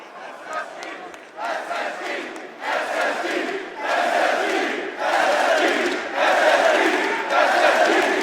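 At a Rainbow Six Siege esports major in Atlanta, a large arena crowd chants in a loud, rhythmic call-and-response, the chant repeating in regular bursts of massed voices that build steadily louder.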